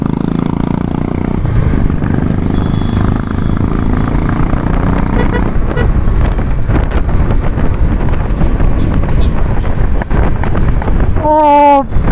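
A 2019 Royal Enfield Classic 350 motorcycle exhaust rumbles steadily while riding, loud and close but heavily buffeted by constant wind noise, with a brief rising tonal sound near the end.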